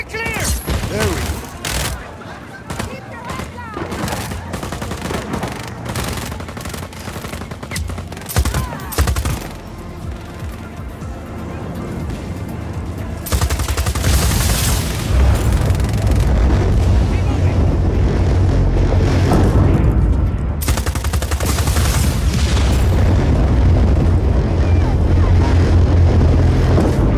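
Grenade explosions and gunfire erupt in Just Cause 4 combat, with a dense run of sharp blasts and crackling shots early, then sustained loud roaring bursts and heavy rumble, with voices shouting amid the chaos.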